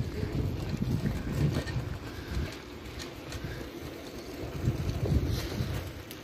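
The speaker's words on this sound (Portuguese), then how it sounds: "ventando, vento gelado." Cold wind from a cold front in Navegantes, Santa Catarina, Brazil, rushes and buffets against the microphone in uneven gusts, with a low rumbling roar throughout and no voices.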